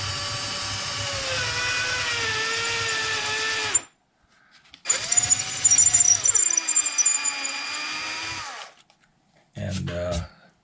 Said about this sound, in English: these little twist drills are not made for wood, and so the little grooves fill up quickly